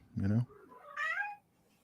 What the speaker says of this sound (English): When the European cat speaks, everyone listens.